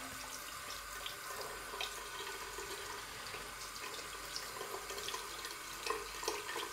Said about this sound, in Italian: Sciacquo soltanto il rasoio perché è nuovo.